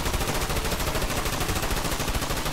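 Rapid gunfire from a Garry's Mod game session, a dense continuous stream of loud shots lasting throughout with no pauses and no talking.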